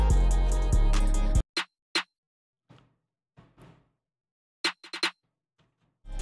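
Crisp drum machine snare hits in a hyperpop beat, several sharp snaps spaced apart, following a brief loud stretch of bass-heavy beat.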